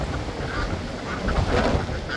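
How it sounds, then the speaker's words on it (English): A goose honking outdoors on a windy morning near Silver Appleyard ducks, several loud honks rising over steady wind noise through the clip. "Oh, the goose. Goose, goose. Goose, goose."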